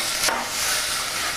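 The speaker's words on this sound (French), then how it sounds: "je suis allé sur mon poêle faire revenir mes oignons et rajouter des topinambours à l'intérieur de ma casserole" Onions and Jerusalem artichokes fry in olive oil in a saucepan, giving a close, steady sizzle with a brief stirring scrape near the start and no talking.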